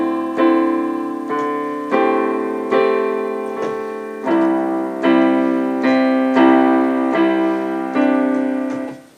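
A piano plays the verse pattern of a song slowly, with a series of sustained chords struck about once a second, each ringing and decaying evenly and alone.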